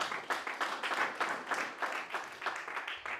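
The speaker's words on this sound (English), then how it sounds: "I would like us to give her a round of applause once again" Conference audience giving a presenter a round of applause, a moderately quiet, somewhat distant patter of many hands clapping in uneven waves for a few seconds.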